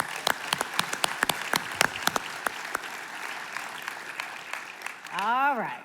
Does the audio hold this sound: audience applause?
yes